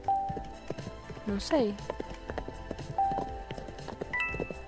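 Horse hooves clip-clop at a quick gallop in the Roblox game The Horse Game, rhythmic thuds mixed with game chimes and a whinny, while someone talks excitedly over them.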